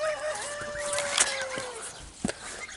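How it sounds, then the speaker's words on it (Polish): Several large white geese honk and cackle nearby, a few drawn-out calls among scattered shorter cries over faint background noise. "Ładne gęsi białowłoskie, wielkie."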